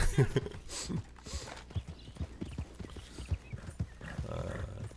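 Horse hooves clip-clop in Red Dead Online, a steady walking rhythm of close hoof strikes lasting throughout, with a snort or whinny early on and a player talking softly now and then.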